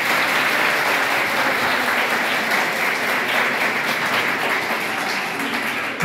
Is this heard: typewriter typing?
no